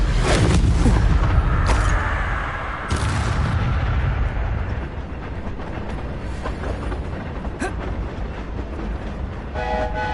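Hogwarts Legacy spell combat with Bombarda and Confringo blasts: heavy booming explosions land in the first few seconds, then a rumbling, crackling layer of effects with a few sharp hits, and no talk.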